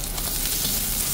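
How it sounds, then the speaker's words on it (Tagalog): Chopped onion sautéing in an oil-filled pan for pinakbet, a steady close hiss and crackle of frying with faint stirring, continuous and unbroken with no voices. "Okay, saute. Now we can add the onion."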